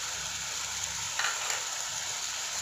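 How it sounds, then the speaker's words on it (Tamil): Chicken cooking in a pan with masala and yogurt for a Vellore-style seeraga samba biryani gives a steady, close sizzle with faint stirring scrapes and no talk. "இந்த மசாலா கூட சிக்கன் நல்லா கலந்து வர அளவுக்கு கொஞ்சம் நேரம் வதங்கட்டும்."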